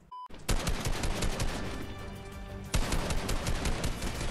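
Rapid gunfire from a Bloom-style weapon in the video game Fortnite, during a live event: dense, loud bursts of shots fired back to back with no pause, and a second volley starting partway through.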